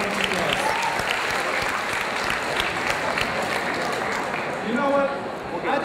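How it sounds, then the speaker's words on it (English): An audience at a spring school show bursts into sustained, dense applause, loud and close, with a few voices calling out over the clapping. "please give a round of applause"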